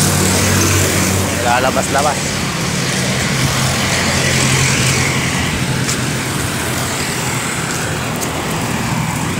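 A father's motorcycle starts and rides away, its engine a steady rumble mixed with surrounding road traffic, with a person talking nearby over the noise.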